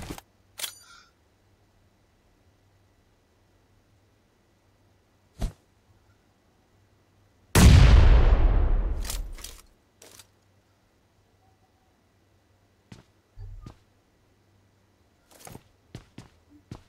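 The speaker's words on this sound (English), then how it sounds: "Throw a nade in that back room" Grenade blast in PUBG Mobile, a single loud booming explosion about halfway through with a quick decaying rumble, set among otherwise quiet stretches with a few scattered short clicks and taps.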